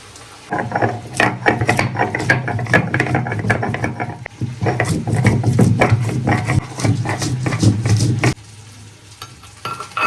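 Spices ground by hand on a Bengali stone slab with a stone grinder (shil-nora), giving rhythmic, gritty scraping and rubbing strokes in quick repeated bursts that are close and fairly loud, with a brief pause midway and one near the end.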